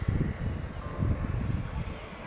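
A small propeller plane takes off from an island airstrip, heard as a low, fluctuating engine drone at moderate distance over faint wind.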